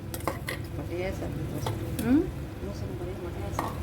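Cooked masoor lentils are stirred in a metal pot with a spoon, giving soft wet squishing and scraping with a few light clinks, close up, while a person talks briefly in the background.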